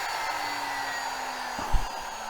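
A Sainsmart 4040 Pro CNC 800 watt air-cooled spindle runs at speed with a steady, airy high-pitched whine like a hair dryer, close and even, broken by one brief low bump.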